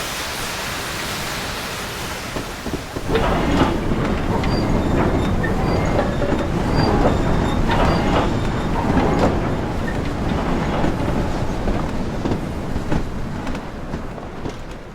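Caledonian Railway 294 class steam locomotive in a Train Simulator game, running with a steady broadband rush and rumble that swells after a few seconds, with faint rhythmic clatter and occasional high tonal hints, no talk.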